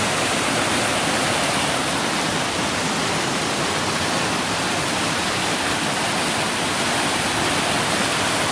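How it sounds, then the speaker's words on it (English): A waterfall pours in a steady, broadband rush of falling water, loud and unbroken from start to finish with no voices. "Another waterfall up there"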